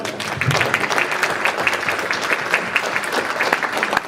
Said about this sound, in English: Maybe join me in just giving her one more round of applause.